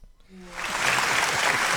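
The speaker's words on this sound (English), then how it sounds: "Applause is everything." A talk-show studio audience breaks into applause, swelling quickly from a quiet start into steady, full clapping that continues to the end.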